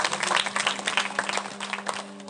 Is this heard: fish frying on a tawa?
no